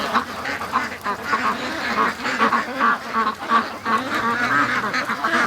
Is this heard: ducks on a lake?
yes